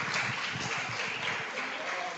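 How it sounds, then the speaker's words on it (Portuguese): A church congregation applauds during a worship service, the clapping faint and continuous, blended with voices. "Aplauda ao Senhor Jesus"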